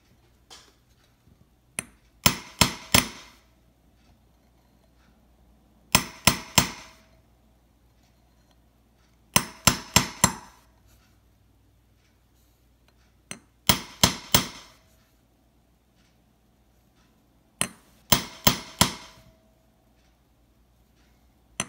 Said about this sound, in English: We will move to 15A, which is the flat punch, to flatten the rivet.